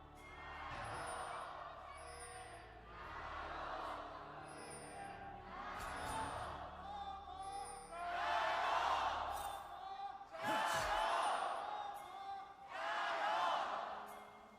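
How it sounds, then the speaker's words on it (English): An esports arena crowd in Xi'an at a League of Legends LPL playoff match roars in repeated swelling waves of chanting and cheering, loud and reverberant, with a caster talking over it. "It's really cool to hear the crowds invigorated again"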